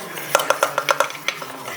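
Flour being stirred into eggless brownie batter in a bowl: a quick run of rhythmic clinks and scrapes from a spoon against the bowl, close and fairly loud, then slowing, with no talking.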